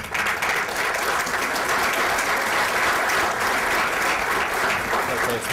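Sustained audience applause fills a keynote hall at an African economic forum, dense and steady throughout without pause.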